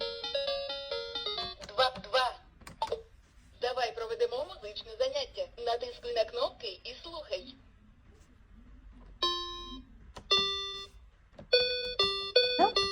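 Bright electronic beeping tunes and chimes from a children's interactive learning toy laptop (SK 7073), played in short melodic bursts with pauses, fairly close, with a stretch of quieter background in the middle.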